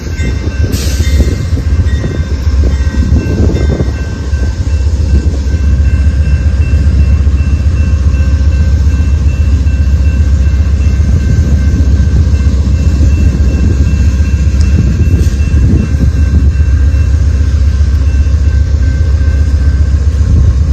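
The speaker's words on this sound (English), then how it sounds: "I do like the sound of the horn on this one, and it does have a nice mechanical bell for the locomotive." A CSX locomotive passes a damaged railroad crossing with a loud, continuous heavy rumble. Steady tonal ringing from its horn and mechanical bell carries over the engine noise for about twenty seconds.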